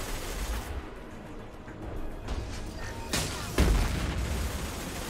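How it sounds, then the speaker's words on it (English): Rockets and gunfire burst in a Mass Effect firefight, with continuous loud combat noise and a sharp heavy boom about two-thirds of the way through, followed by rumbling aftermath, with no voice heard. "Getting real sick of these rockets."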